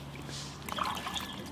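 King crab, a large 4 kg specimen, being rinsed under running water, with a soft steady trickle and faint splashing at moderate distance, no talk over it.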